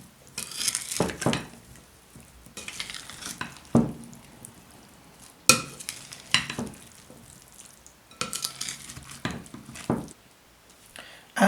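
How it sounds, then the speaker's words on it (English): Chana chole chaat is mixed in a bowl, with bursts of wet stirring and clinking utensil scrapes coming in uneven clusters separated by short quiet gaps. "Now we're gonna give it a good mix."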